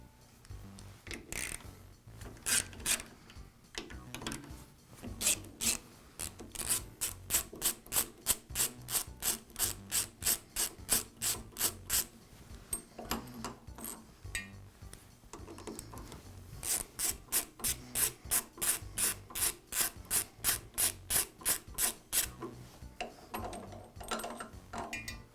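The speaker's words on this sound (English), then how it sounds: "I'll begin by removing the depth stop indicator block." Rapid, rhythmic scraping and ratcheting strokes come in bursts as a screwdriver removes two screws from the depth stop block of a Jet drill press, close by with no talking.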